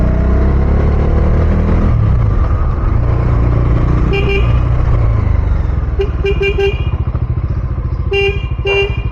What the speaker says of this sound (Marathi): कुत्रे दिसले ना लांबूनच हॉर्न मारायला चालू करायचं, सर्वात बेस्ट आहे ते.